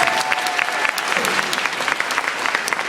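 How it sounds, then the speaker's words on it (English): A high school auditorium audience gives a round of applause for volunteers at a hypnotist show, dense steady clapping throughout with faint voices and a brief whistle-like tone early on. "give us a nice round of applause for our guests"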